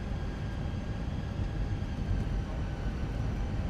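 A Fenix Airbus A320 on final approach to Carthage in Microsoft Flight Simulator, giving a steady, loud, low roar of engine and airflow noise with no break and no voices.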